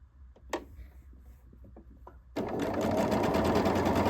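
Quiet handling clicks and small taps, then a sewing machine starts up and runs at a steady, fast whir while chain piecing quilt block patches.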